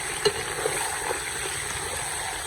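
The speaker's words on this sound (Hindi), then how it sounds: "प्याज में इसे 7-8 मिनट अच्छे तरीके से भूनते हुए पकाएंगे" Chicken and onions frying in oil in a karahi for chicken karahi, a steady close sizzle with a few soft stirring clinks near the start and no talk.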